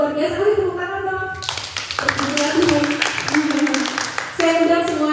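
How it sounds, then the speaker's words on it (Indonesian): Clapping from a church congregation rings out beneath someone talking and sustained musical tones, the claps loose and scattered rather than a dense ovation. "Ayo tepuk tangan dong."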